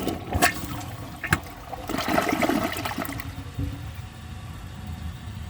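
A high-efficiency toilet flushing a washcloth: a loud rushing swirl of water with a gurgling drain-down that settles into a steady refill trickle, close and without talk.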